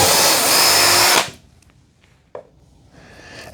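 A DeWalt DCD777 cordless drill whirs loudly at high speed for about a second while drilling into wood, then stops abruptly, followed by faint clicks and a single sharp knock.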